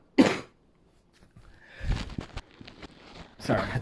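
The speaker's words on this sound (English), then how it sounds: "sorry, I had to cough." A single sharp cough bursts out close to the microphone, followed by a man's speech, in a quiet indoor setting.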